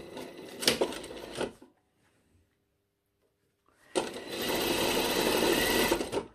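A sewing machine stitches the shoulder seams of a lined jacket, running in a quick burst, pausing for about two seconds of near silence, then whirring again in a longer, steady run up close.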